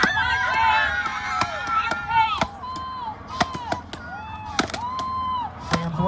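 Crowd at a wood chopping and sawing contest at a folk festival, cheering and shouting under loud sharp axe chops, with whistles and an announcer talking over the scene.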